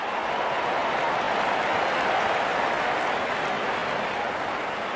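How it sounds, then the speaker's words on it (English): Cricket crowd applauding a batsman reaching fifty during an England versus South Africa match, a dense, steady wash of clapping that holds evenly loud throughout with no voices standing out. "Wonderful 50, and the crowd applauds."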